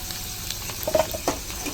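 Potatoes frying in hot oil for a fish-head cabbage chorchori give off a soft, steady sizzle with a few brief crackles and pops. It is fairly quiet and there is no talk.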